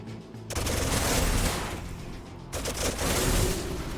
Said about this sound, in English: that's one of the bombard cannons gone